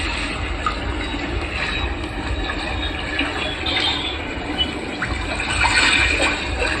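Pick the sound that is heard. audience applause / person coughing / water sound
water sound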